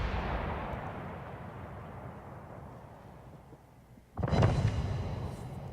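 Warship guns going off in a naval combat video game, one sharp loud boom near the end after a stretch of fading low rumble.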